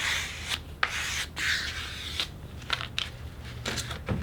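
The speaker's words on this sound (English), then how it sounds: "Take your stick and squeegee the tape down." A stick squeegees tape down onto foam board during a Flite Test FT Bushwacker model aircraft build, making close, steady rubbing and rasping strokes with brief gaps, no voices.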